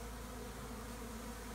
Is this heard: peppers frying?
no